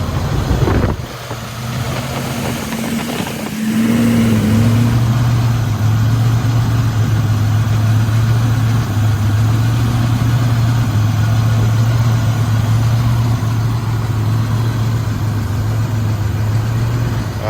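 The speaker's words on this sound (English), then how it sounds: "Feels like it's running really well." A 1984–87 Turbo Buick engine idles steadily after a throttle set screw adjustment, with a low, even hum, a short dip and stumble early on, then a smooth, continuous idle up close.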